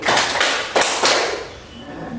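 A classroom group claps hands together in a short run of a few sharp, close claps that quickly fade into room noise.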